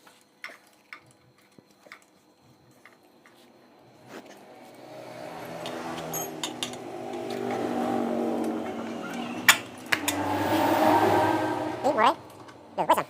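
After the first quiet ticks and clicks, a freshly reassembled Suzuki Zebra Espass 1.3 engine starts in a workshop and settles into a rising, steady running hum, with people talking nearby.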